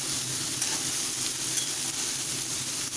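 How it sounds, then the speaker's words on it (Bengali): Young pointed gourd (potol) fries in a pan with a dense, steady hiss and sizzle that stays loud and close, and no one speaks. "এবারে পটলটা যতক্ষণ ফ্রাই হচ্ছে"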